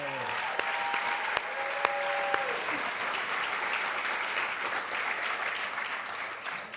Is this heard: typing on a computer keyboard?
no